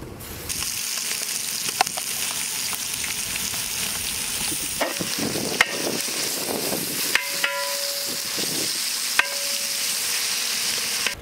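Ginger garlic paste hits golden fried onions in a pan for a cauliflower curry. Steady sizzling runs under repeated scraping and stirring, broken by sharp clinks of a spoon against the pan, up close with no voices.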